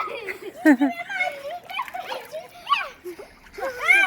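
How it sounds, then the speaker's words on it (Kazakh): Water splashing in an outdoor swimming pool, short bursts of splatter mixed with children's chatter and giggles close by. "Тәтелеріне су шашып жатыр."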